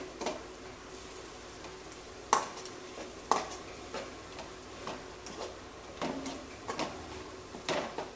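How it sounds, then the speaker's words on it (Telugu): A spoon stirs chili powder into fried carrots in a pan, giving intermittent sharp clacks and scrapes against the metal over a soft, low sizzle, close by and without speech. "కారం వేసి బాగా కలబెట్టండి"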